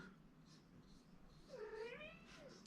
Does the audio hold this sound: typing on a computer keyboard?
no